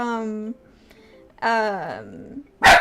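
A dog barks twice close by, each bark a short loud yelp with whiny pitch bends, separated by brief quiet, followed by a sharp noisy burst.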